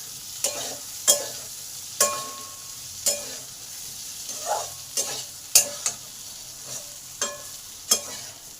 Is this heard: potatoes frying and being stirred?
yes